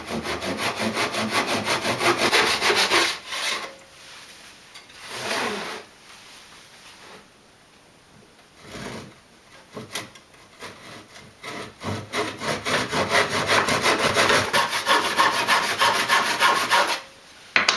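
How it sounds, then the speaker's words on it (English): A handsaw cuts through wood beside a wooden frame with loud, rhythmic back-and-forth rasping strokes in two long bursts, separated by quieter pauses with a few short strokes. "going to use the handsaw here."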